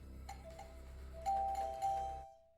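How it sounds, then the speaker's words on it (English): Doorbell rings inside a home, a clear electronic chime with two strong tones after a fainter first ding, over a low steady hum, then stops. "Ring the bell."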